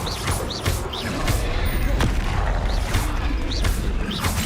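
Bombarda blasting spells in Hogwarts Legacy go off as a string of loud booming crashes amid battle noise, with sharp bursts recurring roughly every half second to second and no talking.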